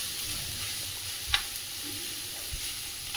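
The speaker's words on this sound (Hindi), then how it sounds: "आतां ही तवा फ्राय चेरीस कोत्ता गायज दनपारां जेवणाकू" Goan chorizo fries on a tawa with a steady, moderate sizzle. A couple of soft stirring clicks and one sharp tap break the even crackle.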